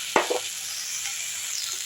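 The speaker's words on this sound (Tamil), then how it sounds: "நல்லா வதக்கி விட்டு இறக்கிடலாம்" Steady sizzling of red ponnanganni greens with grated coconut frying in a pan, with a brief scrape of a stirring utensil near the start.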